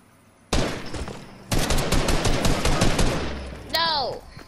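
Fortnite gunfire, a sharp burst followed by a longer run of rapid close shots, then a ringing, whining game effect near the end, with faint speech.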